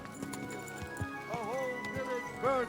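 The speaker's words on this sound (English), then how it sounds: "Easy, good horse." A horse in Kingdom Come: Deliverance 2 gives rising whinnies near the middle and end, with clip-clop hoof steps scattered throughout, and someone speaks softly over it.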